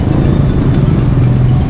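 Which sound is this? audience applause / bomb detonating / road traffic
road traffic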